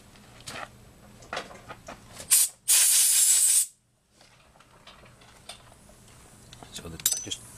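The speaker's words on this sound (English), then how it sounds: "Now I'll just take compressed air, and there are some chips on the top." Compressed air blasts metal chips off the top of a Penguin engine part in one loud, close hiss lasting about a second, set among light metallic clinks and handling noises before and after.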